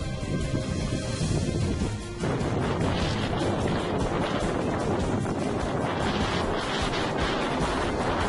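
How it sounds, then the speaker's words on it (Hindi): Strong storm winds lash an urban garden area of Karachi during a storm with light rain, a loud, continuous roaring gust noise buffeting the microphone throughout with a brief lull near the start. "तूफान के बाद तेज हवाएं और साथ हल्की हल्की बारिश भी होती रही।"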